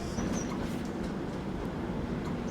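A train on the line toward Bangalore rumbles past at a station platform as a steady, dense low roar with faint clatter, continuous and moderately distant.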